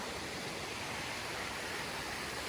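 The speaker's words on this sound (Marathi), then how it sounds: "रिसॉर्टला लागूनच नॅचरल वॉटरफॉल आहे" A natural waterfall beside a resort in Malvan gives off a faint, steady broadband rush with no breaks, like distant falling water heard from nearby ground.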